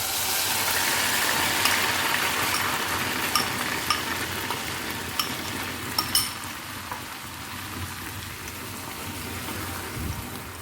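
Soaked semolina frying in a pan for makhandi halwa, a dense, continuous sizzle like rain, with a few sharp pops and crackles, close and fairly soft.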